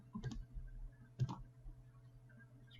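A computer mouse double-clicked twice in Photoshop, two soft close clicks about a second apart over faint room hum.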